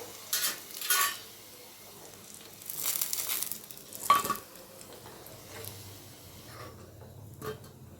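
Mutton kola urundai balls deep-frying in batches in hot oil: a low steady sizzle beneath intermittent stirring, scraping and clinks of a metal ladle against the pan, close up with no voices.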